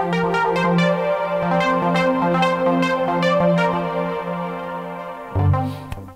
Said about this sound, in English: Now when I press one of the keys here,